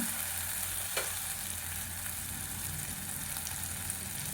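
Onion and cashew paste sautés in a pan as a steady, fairly quiet frying hiss, with one brief stir or clink near the start and no talking.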